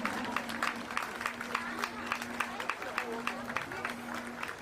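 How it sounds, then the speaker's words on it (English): A crowd at a school annual sports meet claps and cheers in a steady rhythmic burst of applause, with an announcer's voice over it and a faint steady tone underneath. "A loud cheer for our senior students of our school."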